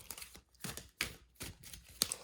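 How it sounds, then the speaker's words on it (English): A deck of cards is shuffled up close in a series of quick papery riffles and slaps. Each short burst is distinct and there is no talking. "We're just going to shuffle these and see what comes out."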